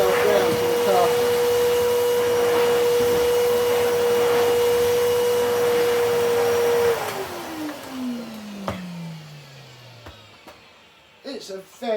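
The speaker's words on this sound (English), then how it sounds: "Hitachi cylinder vacuum, especially if it's complete with its floor tool" A Hitachi CV790 cylinder vacuum cleaner from the 2000s runs with a loud steady motor whine, then switches off, its pitch sliding down as the motor winds to a stop, followed by faint handling clicks.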